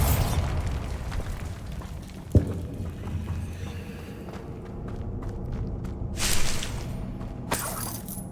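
Bombarda blasting spell in the video game Hogwarts Legacy: a sharp explosive burst near the middle, followed by rumbling debris and later crackling bursts, with footsteps and game ambience throughout.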